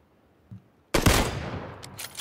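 Gunfire in PUBG: a faint pop, then a sharp, loud double shot close by whose crack decays into a ringing tail, with a few softer hits trailing behind.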